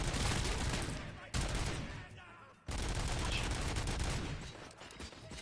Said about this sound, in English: I can evidently just shoot my arm forward and produce a flashbang.